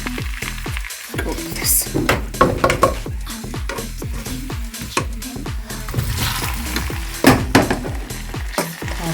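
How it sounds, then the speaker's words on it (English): Potato pieces drop into a hot pan over medium-low heat and are stirred, giving repeated clinks and scrapes of a utensil against the pan over a constant sizzle of frying, with a brief spoken line. "I'm going to start putting the potatoes in slowly"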